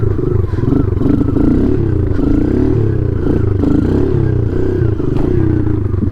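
A motorcycle engine drones loudly and steadily during wheelie practice, popping the front up and riding it out. It holds a continuous, slightly fluctuating rumble close by, with no talking.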